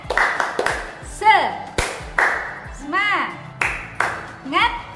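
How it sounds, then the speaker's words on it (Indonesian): A group of students performs a rhythmic clapping chant in a classroom, with sharp bursts of claps in a patterned sequence and voices calling out between them. "mari kita semua tepuk semangat"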